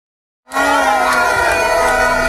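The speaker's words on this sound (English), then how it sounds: "The entry of James Kwaning sent the crowd agog with the unified strength of the chiefs and people" Crowd at an NDC thanksgiving rally bursting into loud cheering and shouting after a moment of silence, a sustained roar of many voices with high yells on top.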